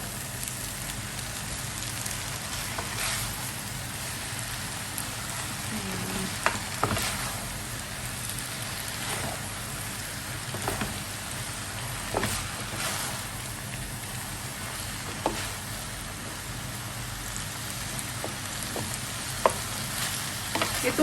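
Pad thai noodles stir-fried in a pan give off a steady, loud sizzle, with scattered scraping clicks from stirring and no talking.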